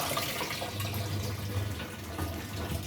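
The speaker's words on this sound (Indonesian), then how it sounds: "Nah, ini nutrisi yang kembali dari pompa, ini nutrisi yang kembali dari instalasi." Hydroponic nutrient solution pours steadily back from the pump through a hose into a partly filled reservoir, a continuous close splashing trickle of water with no talk.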